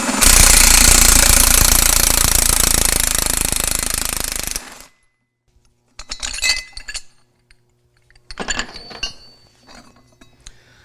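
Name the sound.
impact wrench loosening pump impeller lock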